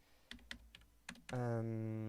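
Computer keyboard typing up close, a handful of quick, irregular key clicks, cut off by a loud sustained tone at the end.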